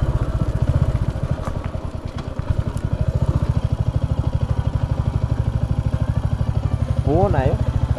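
A motorcycle engine runs with a steady low throbbing pulse throughout, close and loud, as the bike comes to a stop near the Tinchule railway crossing; a voice briefly speaks over it.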